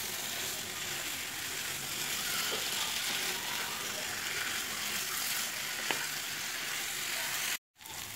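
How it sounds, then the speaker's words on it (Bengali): Potatoes and cauliflower frying with spices in a pan over high to medium flame, a dense, even sizzle running close and steady with a couple of faint clicks, cutting off abruptly near the end. "ভালোভাবে মশলার সঙ্গে আলু ফুলকপি ভালোভাবে আরও 2 থেকে 3 মিনিট কষিয়ে নেবো"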